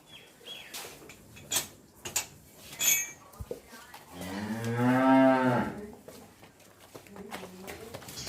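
A freshly calved Jersey cow gives one long, loud, tonal moo in a farmyard, preceded by clinks and scattered knocks, with faint voices around.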